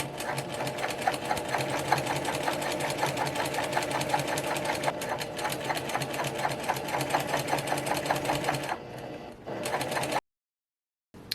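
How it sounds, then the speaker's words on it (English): A sewing machine runs steadily, top stitching a fold on a bag lining, with a fast even needle rhythm close up for about ten seconds before it stops abruptly. "And we're going to top stitch that fold."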